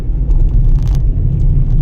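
A car rolling across a bridge, heard from inside as a loud, steady low rumble of road and engine noise with faint higher rattles, continuous and without talk.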